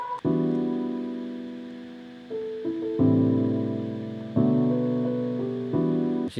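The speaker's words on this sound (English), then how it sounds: "We've got this piano." A piano part from a song, played in Ableton Live, rings out as sustained chords that change every second or so, each struck fresh and slowly decaying, loud and clear with no voices.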